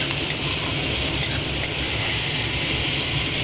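Diced boiled potatoes frying in a pan with turmeric, giving a steady, close, even sizzle and hiss throughout, with no talking.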